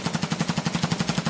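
The Mutant rifle in a video game fires a rapid full-auto burst of about fourteen evenly spaced punchy shots, loud and close with no pauses.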